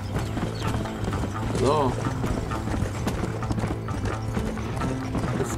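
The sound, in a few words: horse hooves while riding in the video game Red Dead Redemption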